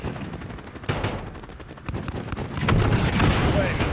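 An aircraft gunfire strike in Call of Duty: Modern Warfare, with rapid bursts of automatic fire and booming impacts that grow denser and louder toward the end, while voices talk over it.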